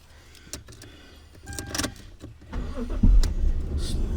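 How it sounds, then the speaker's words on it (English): A Toyota Chaser's engine cranks and catches at close range, a brief whir leading into a rising idle rumble that settles into a steady low hum inside the car. "Toyota starts right up always."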